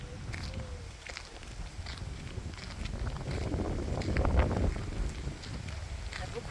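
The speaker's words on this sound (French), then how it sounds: "Il y a beaucoup de vent" Wind buffets the microphone outdoors in a continuous low rumble, with people talking underneath.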